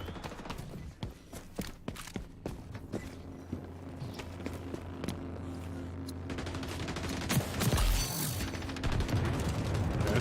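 Marksman rifle shots in the XDefiant shooter game crack out repeatedly in an irregular rhythm, with other gunfire and footsteps around them, getting louder toward the end.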